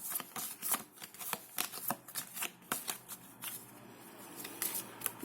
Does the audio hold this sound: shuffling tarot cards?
yes